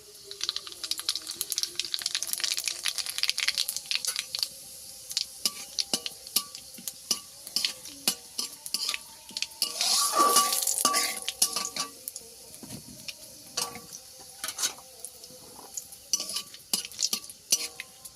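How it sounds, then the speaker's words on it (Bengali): Bay leaf, cinnamon, dry chili and black cumin temper in hot oil, giving a light sizzle with frequent metal clinks and stirring scrapes from a spatula against the pan, close and intermittent. "তেল একটা তেজপাতা একটা দারচিনি আর একটা শুকনো লঙ্কা ফোড়নে দেবো আর অল্প একটু কালো জিরে"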